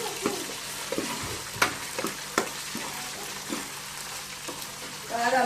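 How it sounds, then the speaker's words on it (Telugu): Ginger paste cooks in a pan with a low, steady sizzle, punctuated by sharp scraping and tapping strokes from a spoon stirring up close, and no talk. "అల్లం పేస్ట్ మంచిగా మగ్గనివ్వాలండి."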